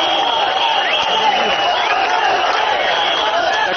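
A large crowd at a Workers' Party election rally in Hougang cheers and applauds in a steady, loud roar that does not let up.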